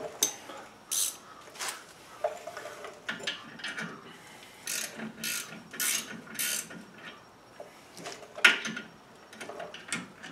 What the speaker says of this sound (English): where's my ratcheting 18?